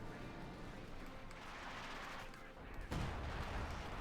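Battle gunfire from a Company of Heroes 2 match, a steady dense wash of rifle and machine-gun fire throughout, with a heavier burst near the end.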